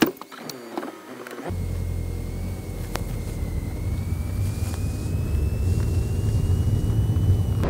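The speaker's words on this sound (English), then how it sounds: "Volkswagen says it's a 150 horsepower TDI that we're driving here" A 2014 Volkswagen Golf Sportsvan with a 150-horsepower 2.0 TDI diesel starts up and is driven. Steady low engine drone and road rumble fill the cabin after the start, rising gradually as it pulls away.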